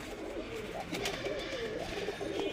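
Restless Giribaz flying pigeons coo in a steady run of soft, rolling calls, close and moderately loud over a faint background hiss.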